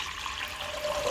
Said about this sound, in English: So I'm going to pour my water into my bowl